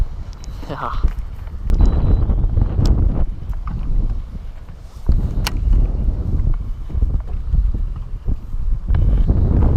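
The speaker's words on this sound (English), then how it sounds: "Some freaking serious wind." Strong wind buffets the microphone in heavy roaring gusts, with a voice speaking briefly over the blustery noise.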